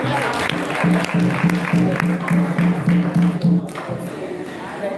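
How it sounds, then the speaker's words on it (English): An audience at a World Tourism Day ceremony claps steadily over a low humming tone, with some voices mixed in, before the applause eases off toward the end. "Please clap for me too."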